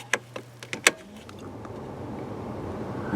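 A 3rd gen Camaro heater blower motor runs on its low setting, a steady soft whir that settles in after a few sharp clicks and switch taps at the start.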